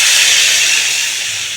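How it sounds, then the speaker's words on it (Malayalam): Hot onion and asafoetida tempering poured into a jackfruit and mango curry sizzles loudly and steadily up close, a bright continuous hiss that fades slightly toward the end. "തീ ഓഫ് ചെയ്തിട്ട് ഇപ്പം ഞാനിത് എൻ്റെ കറിയിലേക്ക് ഒഴിക്കുകയാണ്."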